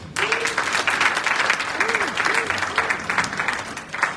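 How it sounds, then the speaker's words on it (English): A crowd at a foundation launch event applauds an honoured guest, with loud, full clapping filling the whole stretch while a voice calls out briefly over it. "Can we just give Mrs. Tuma a round of applause?"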